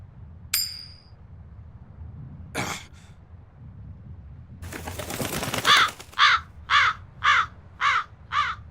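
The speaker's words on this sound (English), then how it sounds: "That crow just flew off with the coin." A crow in the video game Tales of Berseria caws six times in a steady, loud, close rhythm after a few sharp game sound effects, with no speech.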